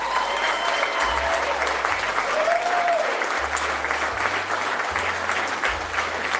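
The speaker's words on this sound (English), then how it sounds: "Can y'all give them a round of applause?" Sustained applause from a crowd honoring district attorneys and investigators at a campaign event, continuous dense clapping at moderate loudness with a few faint voices underneath.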